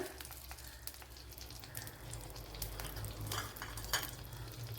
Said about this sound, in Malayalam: ഇതിലേക്ക് ഇനി കടുക് ഇട്ട് കൊടുക്കാം.